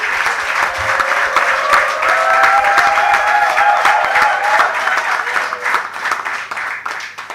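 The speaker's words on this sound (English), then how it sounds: "let us all give a round of applause to this comrade in the way that Rosie would do it." Steady, dense audience applause at a memorial lecture, many hands clapping continuously for several seconds, loud and close with crowd murmur, gradually thinning toward the end.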